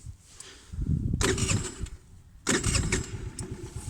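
A Luxxon Eco 50 scooter's cold engine is started, giving a low rumbling crank that cuts out, then a second burst of rough running, close by with no talking.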